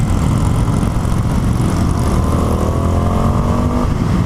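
A 2020 Indian FTR1200 motorcycle accelerates hard, its engine note loud and close, rising steadily in pitch through a continuous roar mixed with wind rush.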